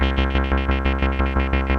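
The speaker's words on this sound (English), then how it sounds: "Let's set a square wave going to the filter." Roland SH-3A synthesizer with a square wave modulating the filter, a loud buzzy sustained tone pulsing in a fast steady rhythm, about eight even throbs, alone.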